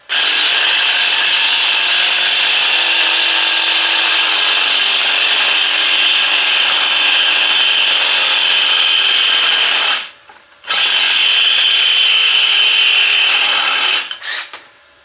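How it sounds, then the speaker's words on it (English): A Sawzall reciprocating saw cuts through an exhaust pipe on a 1972 Chevy C10, a loud continuous rasping buzz that stops briefly near the end, restarts, then trails off. "Get this one cut off."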